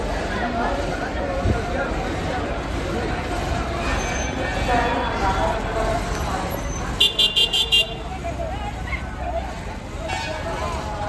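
A Tata vehicle rumbles past at a busy bus stand amid engine noise, crowd chatter and a quick burst of horn toots, with people talking close by.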